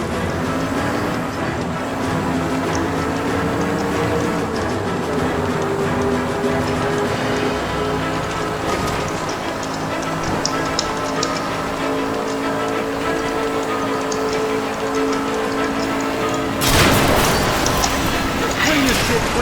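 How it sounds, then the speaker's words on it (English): A train rumbles through a tunnel in the video game L.A. Noire, a steady, dense roar lasting throughout with a louder swell near the end, while voices talk over it. "the train up ahead!"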